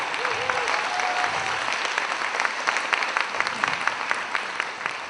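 Room audience giving finalists a final round of applause, steady full clapping from a sizeable crowd, fairly loud and continuous, with a brief tone and faint voices early on.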